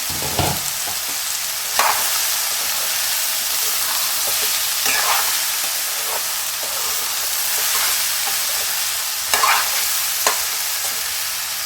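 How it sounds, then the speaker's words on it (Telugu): Ridge gourd curry is stirred in a pan over steady, close sizzling, with several sharper spoon scrapes at intervals. No voices. "మళ్ళీ ఒకసారి మూత తీసి కలుపుకుందాం."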